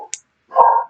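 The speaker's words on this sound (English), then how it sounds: "that howling dog was Pilgrim, and he says hi." A dog gives a short high yip followed by a brief, loud bark-like howl close by, all within a second.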